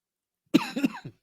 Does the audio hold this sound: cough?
yes